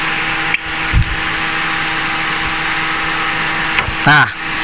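Cooling fan of a Proton Saga FLX car whirring steadily with a constant hum throughout, broken by a few brief clicks and knocks, with a short voice near the end.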